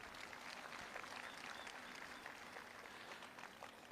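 A large seated crowd at an AWPL Vijayrath 2.0 event in Agra applauds achievers, a dense, steady wash of clapping that stays even and moderately distant for the whole stretch, with no talk over it.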